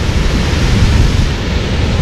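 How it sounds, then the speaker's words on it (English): A river weir roars in flood beside a lock at Yarwell, giving a steady, dense rush of water that holds at the same level throughout, with no talk. "There's the weir, you can hear it roaring away in the background."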